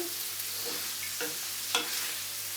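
Mussels and fish sizzle steadily in a hot pan, with a few soft scraping stirs of a utensil along the way.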